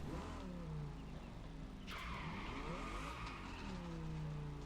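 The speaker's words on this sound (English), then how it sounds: "it's such a weird engine sound because it's a V10" V10 engine of a car in the Crew Motorfest racing game revving loudly up and down, with a sharp pitch rise partway through and a steady throbbing drone throughout, heard alone without talk.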